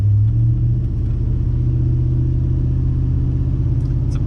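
A Dodge Dakota R/T truck fitted with a Mopar M1 intake drives along with a loud, deep engine rumble that holds fairly steady, with a slight change in pitch near the start, heard from inside the cab.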